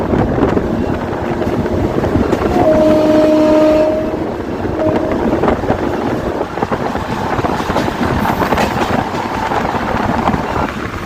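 A train between Secunderabad and Siddipet rumbles steadily along the tracks at about 75 km/h under heavy wind noise, with a short horn blast sounding early on.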